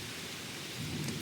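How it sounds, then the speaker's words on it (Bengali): Thunder rumbles from rain clouds as a steady low roar, mixed with wind and rain noise, swelling slightly toward the end, with no voices. "মেঘ ডাকছে"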